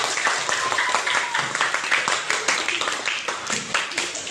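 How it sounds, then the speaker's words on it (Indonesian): Schoolchildren in a classroom clap their hands together in a loud, busy burst, with voices mixed in over the clapping. "Tepuk tangan untuk semuanya."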